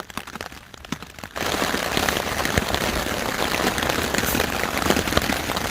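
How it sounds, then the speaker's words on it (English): At night, rain patters steadily on a taut hammock close by, starting light and then growing into a dense, continuous drumming of drops. "all we hear is the pitter-patter of rain"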